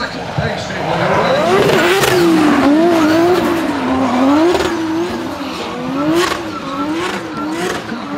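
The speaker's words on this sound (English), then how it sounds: "you can hear the tire screeching even in this wet weather" Drift cars sliding on a wet track at a drift league round, tires squealing in wavering, sustained screeches with engines revving close by, heard under an excited commentator's voice.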